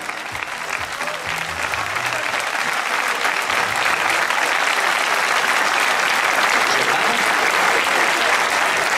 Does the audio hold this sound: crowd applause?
yes